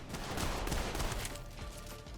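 Gunfire in the shooter video game Trepang2, a .45 caliber pistol and frantic panic fire, heard as a faint, dense, continuous burst of overlapping shots.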